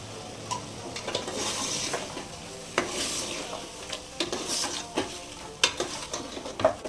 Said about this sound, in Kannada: ಒಂದು 2 ನಿಮಿಷ ಈ ಥರ ಫ್ರೈ ಮಾಡ್ಕೊಂಬಿಟ್ಟು